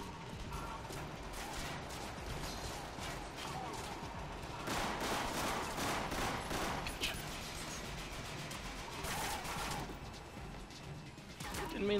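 Gunfire in the video game Mindjack crackles as rapid bursts and scattered shots over a busy, dense background, fairly faint and steady, with heavier volleys in the middle and near the end.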